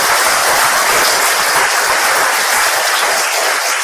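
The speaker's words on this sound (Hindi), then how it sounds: "जोरदार ताली हो सकती है डीएक्सएन के लिए" Loud, sustained applause from a large audience at a business seminar, dense clapping filling the room without a break.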